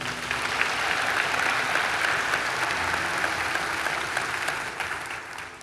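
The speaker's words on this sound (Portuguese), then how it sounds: "Uma salva de palmas para Ele." A church congregation gives a round of applause during a sermon, with sustained, even clapping from many hands that holds steady for several seconds before easing slightly at the end.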